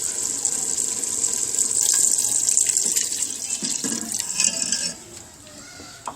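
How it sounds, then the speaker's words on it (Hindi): Water pours and splashes steadily into a cooking pot of potato curry for several seconds, then tapers off to a quieter trickle near the end. "मुझे चाहिए 250 ml पानी चाहिए और ये इसके अंदर हम डाल देंगे।"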